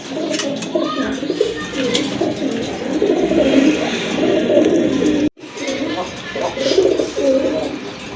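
Low cooing of Raj Golla pigeons rolls on and off over a busy background, with soft bird chirps and a brief cut near the end.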